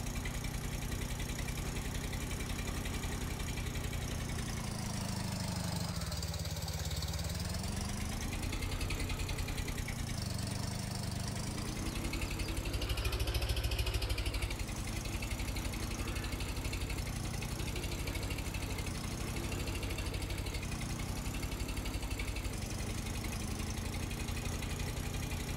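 In Farming Simulator 22, a vehicle engine runs in reverse gear, a steady mid-pitched drone with slow rises and dips in revs and a faint knocking vibration throughout.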